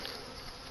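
Honeybees at an apiary hive give a brief, steady, even drone, close by but fairly soft.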